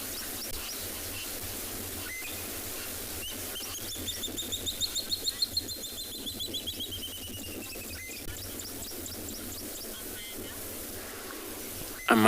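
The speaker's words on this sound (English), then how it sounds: "listening to all bird sound here." Birds call around a waterhole on a South African safari, with a long rising and falling whistle and rapid chirps over steady wind noise and a low background hum.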